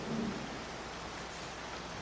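Steady rain falls outdoors as a soft, continuous hiss, faint and even throughout with no voices over it.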